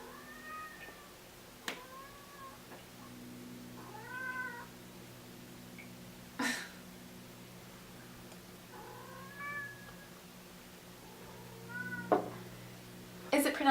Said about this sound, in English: If you hear some desperate meowing in the background,